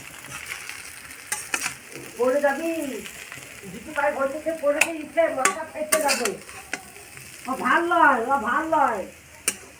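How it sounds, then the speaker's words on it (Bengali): Chow mein is stirred and fried in a pan with potato: a soft sizzle runs under repeated scraping and clinking strokes of a utensil, with some squeaky, tonal sounds rising and falling between them. "ভালোভাবে নেড়ে নিলে হয়ে যাবে চাউমিন"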